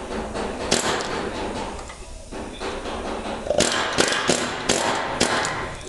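An air hammer fitted with a chisel drives out door hinge pins on a 1957 Chevy Bel Air, giving rapid metallic hammering bursts with sharp clanks and thuds, close and loud in a workshop.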